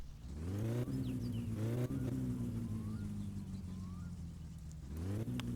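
Car engine in the My Summer Car game idling and revving, with repeated rises in pitch followed by a settling steady hum, close and clear with no speech.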